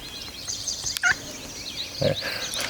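A Merriam's turkey gobbles twice in short rattling bursts, moderately close, with outdoor ambience in Montana and no talking.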